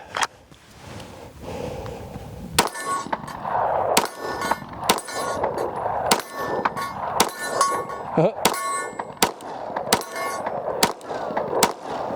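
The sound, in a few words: CZ 75 SP-01 pistol shots hitting steel target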